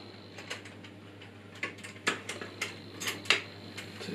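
A screw being undone during installation of a sound card in a PC, with a series of light metallic clicks and ticks close by, irregular and quickening toward the end, no talking.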